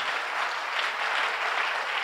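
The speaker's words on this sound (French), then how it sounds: "acclamons pour vous-même" A church congregation at a worship service breaks into steady, sustained applause, a dense wash of clapping filling the room with no break.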